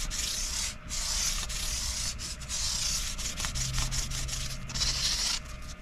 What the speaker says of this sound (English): sanding pad and work your way up through the grits.